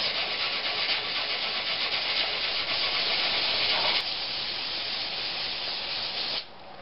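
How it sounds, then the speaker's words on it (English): Steady wet rubbing and hissing scrape of 400 grit sandpaper on a surface, continuous and close, easing slightly near the end with no talking. "take my 400 grit sandpaper and repeat the sanding process"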